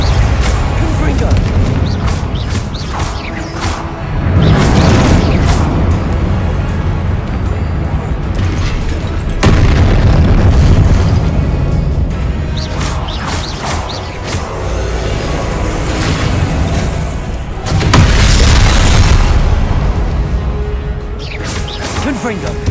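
Confringo spell blasts in Hogwarts Legacy go off as a string of loud booming explosions, several heavy bursts rolling over one another with crashes and rumbling between them across the stretch.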